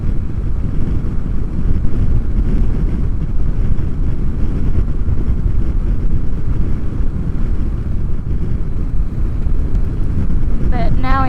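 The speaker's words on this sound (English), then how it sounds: "the ride back's gonna be a little bit crappier because there's now a headwind" Strong headwind buffeting the microphone during a motorcycle ride in the Borrego desert, a loud, continuous low rumble of wind roar that holds steady throughout, with a brief higher-pitched sound near the end.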